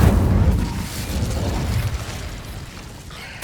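A fire spell blast in the Hogwarts Legacy video game: a loud, dense burst that rumbles on and slowly tapers over a few seconds, ending with a sharp pop.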